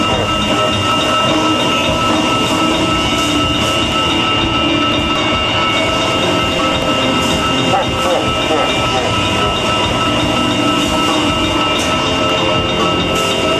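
Recorded train sound effect played over speakers at an outdoor rally, a steady loud rumble of rolling rail cars with clickety-clack wheel noise filling the whole stretch, faint crowd voices mixed in.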